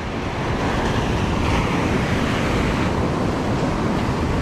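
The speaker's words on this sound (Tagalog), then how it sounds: "Malalaki ang alon." Large ocean waves breaking on a fishing shore, a loud, continuous roar of surf with wind buffeting the microphone, filling the whole stretch with no voices.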